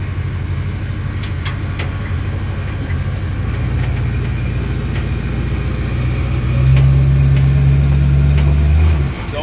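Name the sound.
Ford Mustang project car engine running while driven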